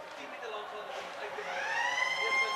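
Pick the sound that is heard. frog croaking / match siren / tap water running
match siren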